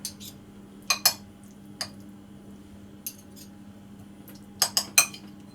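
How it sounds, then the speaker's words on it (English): A metal spoon clinks against tartlet cases and a bowl while red pepper filling is portioned out, scattered sharp taps in small pairs over a low background hum, with no speech. "I'm going to divide the pepper filling equally among the 24 cases."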